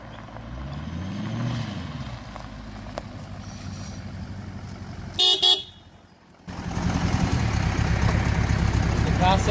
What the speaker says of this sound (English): the horn is going to be the whiskiest horn I've ever heard